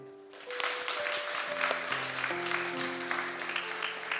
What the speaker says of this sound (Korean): 우리 오늘 먼저 우리 찬양팀 우리 수고한다고 박수 한번 드립니다.